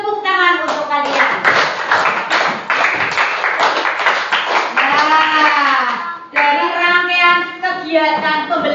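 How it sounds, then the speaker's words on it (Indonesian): Children clap their hands in a classroom lesson, a busy run of sharp claps mixed with kids' voices and singing-like chatter, close and loud throughout. "Tepuk tangan untuk kalian."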